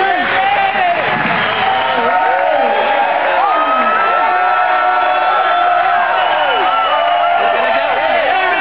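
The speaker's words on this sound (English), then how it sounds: "Rand Paul is taking the stage to applaud." A crowd cheers and whoops steadily as Rand Paul takes the stage at Nashua Airport, with loud shouts and voices running through the whole stretch, near and dense.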